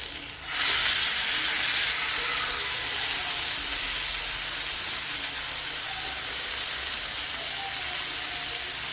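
Chicken frying in a pan, a loud, steady sizzle and hiss of hot oil that starts abruptly and continues without a break.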